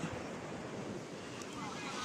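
Sea waves wash onto a beach at Botolan, Zambales, in the Philippines, a continuous rushing surf roar mixed with buffeting wind noise on the microphone.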